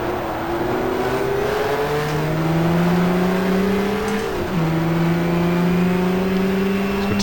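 Racing cars roar around the Jarama circuit in the GTR2 racing game during a 1994 sports car race, engines droning and shifting pitch as one car draws alongside and passes, loud and continuous.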